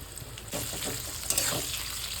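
Potatoes dropped into hot oil with browning onions for black pepper chicken, a sudden swell of loud bubbling sizzle that holds steady, with a brief clatter partway through.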